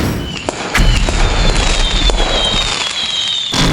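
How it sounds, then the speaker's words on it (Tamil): Cartoon Diwali rocket firework set off from a hand: a fizzing, crackling whoosh with sharp pops that runs steadily for several seconds, fairly loud and close, ending in a final burst. "கையில ராக்கெட் விடக்கூடாதுடா"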